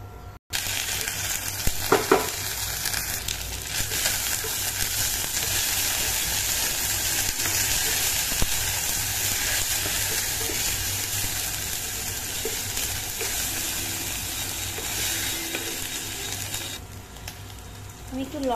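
Ginger garlic paste fries in a pan for a Bengali-style ghugni of curried yellow peas, giving a steady, close sizzle that runs unbroken throughout with faint clatter of stirring.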